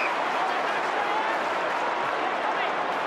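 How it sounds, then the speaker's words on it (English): A large football crowd at an AFL match between Essendon and Melbourne roars steadily, with broad, sustained cheering and clapping mixed in throughout. "Crowd is screaming."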